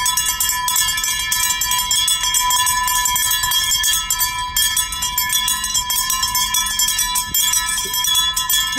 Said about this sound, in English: I fixed my bells because the bells were coming apart